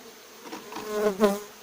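Honey bees buzzing at a hive, a close, steady droning hum that swells briefly louder near the end.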